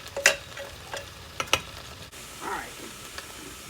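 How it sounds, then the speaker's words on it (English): Chopped onions go into a pan for Creole stewed okra and tomatoes, bringing a few sharp clatters and scrapes followed by a soft, low sizzle up close, with brief quiet gaps between the sounds. "My 2 onions are cut up. Add that to the pan."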